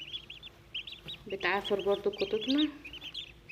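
Newly hatched baladi ducklings give repeated high, thin peeps that run throughout, close by. Someone speaks over them in the middle.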